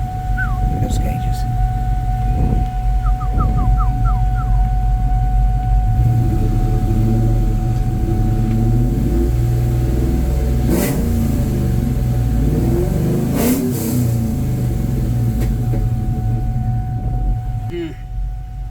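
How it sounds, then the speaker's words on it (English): A car engine that sat with its A/C system open for two years revs up from a steady idle, rising and falling in a loud, close growl over an ongoing hum, with people talking over it. "So, you guys want to hear a rev?"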